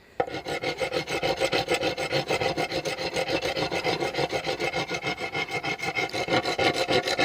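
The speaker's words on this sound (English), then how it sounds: "you need a bloody good rasp" A hand rasp files a soft Corian solid-surface board for a cutting board. Quick back-and-forth strokes make a steady, rhythmic scraping rasp, close and continuous for about seven seconds with no talking.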